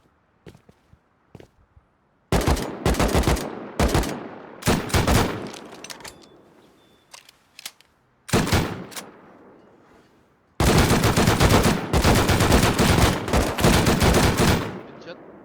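Gunfire in the survival game Rust: repeated loud bursts of automatic fire in rapid clusters, with scattered single shots and short gaps between volleys. The heaviest sustained burst comes at the end.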